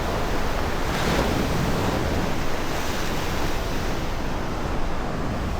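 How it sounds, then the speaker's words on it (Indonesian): Big ocean waves breaking at Torohudan beach in Jogja around seven in the morning, a continuous loud roar of surf with wind rumble, no voices. "Dan ini ombaknya baru gede."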